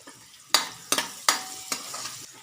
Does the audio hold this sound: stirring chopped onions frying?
yes